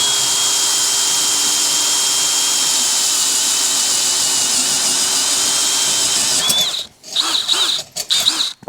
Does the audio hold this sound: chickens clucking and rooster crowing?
no